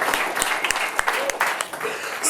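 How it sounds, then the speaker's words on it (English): An audience at a Startup Grind event in Detroit applauds Josh, with scattered, uneven clapping and a few louder claps, and voices chatter throughout. "So if we could all stand up and give Josh a round of applause."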